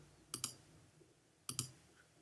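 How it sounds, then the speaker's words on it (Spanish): A computer mouse clicks while the magic wand tool selects areas in Adobe Photoshop. There are two quick double-clicks, close and crisp, about a second apart in a quiet room. "voy a dar varios clics para añadir todas las secciones que faltan"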